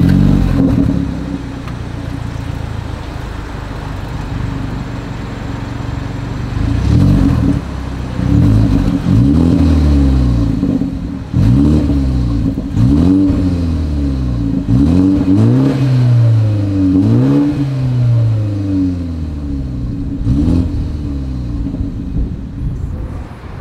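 A 2024 BMW 430i Coupe exhaust revs repeatedly, loud and close, with a series of sharp throttle blips rising and falling over a steady idle rumble, and no one speaking.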